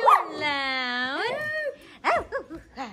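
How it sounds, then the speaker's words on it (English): A dog lets out a long, drawn-out howling whine followed by several short, sharp yips, close by and loud. "Loud doggy, you're a loud doggy."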